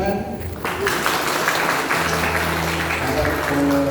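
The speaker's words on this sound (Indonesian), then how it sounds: "Tepuk tangan." A church congregation claps for a newly blessed couple at a wedding ceremony, a dense, steady applause that carries on for several seconds over sustained tones in the room.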